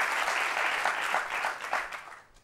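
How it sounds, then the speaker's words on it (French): A studio audience claps steadily for a moment, the applause fading out near the end. "On peut l'applaudir très fort."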